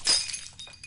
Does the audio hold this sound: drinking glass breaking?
yes